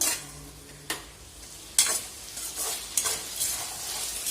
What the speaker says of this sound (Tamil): இந்த எண்ணெயில் இந்த கத்திரிக்காய் வந்து நல்லா வதங்கட்டும்.